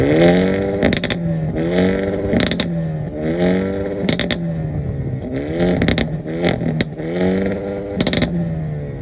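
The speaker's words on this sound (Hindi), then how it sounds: "टर्बोचार्ज इंजन के साथ जो इसका एग्जॉस्ट नोट आता है, स्पेशली क्रैक्स एंड पॉप्स" The 2-litre turbocharged engine of a 2023 Hyundai Elantra N DCT revs repeatedly in rising, falling sweeps, its exhaust spitting sharp cracks and pops between pulls, loud and close with no talking.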